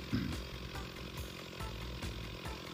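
A chainsaw runs steadily while cutting tree limbs, a loud close engine drone with slight changes in pitch as the bar bites into the wood.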